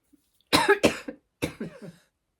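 Two close, harsh coughing bursts, each a quick pair of hacks, separated by a short pause.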